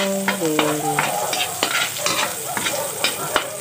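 Garlic sautéing in a pan, starting with a hot sizzle and sharp clinks of a spatula stirring against the metal, with a brief tonal chime at the start.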